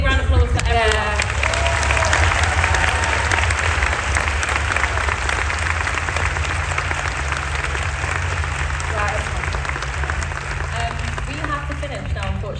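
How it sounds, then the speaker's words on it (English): Crowd at a vegan camp-out talk applauds for campaigners, sustained dense clapping with cheers and voices mixed in, loud and continuous for the whole stretch. "Just want a big round of applause for everyone."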